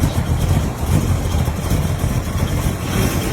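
A steady, low rumbling LS6 V8 engine idles continuously at close range, with a deep throbbing texture and no talk.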